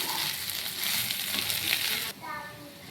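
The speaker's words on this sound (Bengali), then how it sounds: "আলুগুলো দিয়ে আমি একটু সময় জন্য ভেজে নিব" Boiled potatoes fry with chicken in a pan, a loud close sizzle that suddenly drops to a much quieter background after about two seconds.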